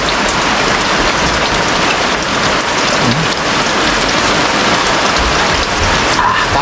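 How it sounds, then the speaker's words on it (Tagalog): Heavy storm rain pours down steadily outdoors at night, a loud, continuous hiss of drops drumming on surfaces, with faint rumbles that may be distant thunder and no talk. "Lakas na ng ulan."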